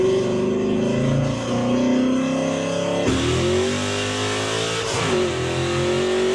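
A 1965 Mustang with a 347 stroker V8 revs hard and accelerates, its loud steady engine roar shifting pitch midway as it pulls away, close and continuous with no talk.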